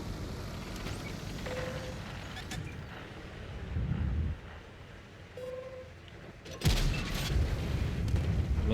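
A tank's main gun fires in a World of Tanks-style video game, heard as a few sharp booms, one at about 4 seconds and a louder one near 6.7 seconds, over a steady rumble of game ambience.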